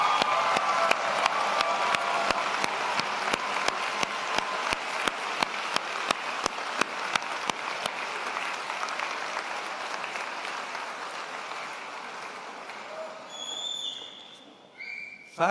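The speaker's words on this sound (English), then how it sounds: "Graduates, a round of applause," Audience applause at a graduation convocation, a large hall of clapping with a few sharp individual claps standing out early, gradually fading toward the end with faint whistles and cheers.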